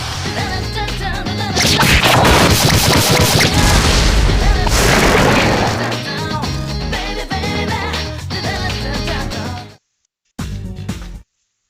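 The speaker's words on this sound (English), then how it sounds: "Here's our chance for an all-out attack!" An all-out attack in a Persona 3 Portable battle: a loud, dense barrage of crashing booms and whip-like strikes that rages for several seconds, eases, then cuts out briefly before a short final burst.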